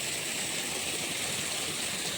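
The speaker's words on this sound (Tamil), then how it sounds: "தண்ணி நல்லாவே ஃபுல்லாகவே போயிட்டுருக்கு நாலஞ்சு பைப்பு ஃபுல்லாகவே போயிட்டு பாருங்கள்" Water gushes steadily from four or five 4-inch delivery pipes pumping out of a farm well in Erode district, a constant broadband rushing with no speech.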